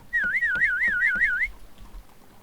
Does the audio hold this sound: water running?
no